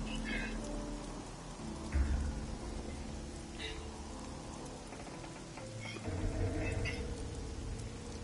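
Rain and a thunderstorm in the video game Submerged, a steady wash of rainfall with low rumbles of thunder swelling around the two- and six-second marks, with scattered higher game sounds over the top.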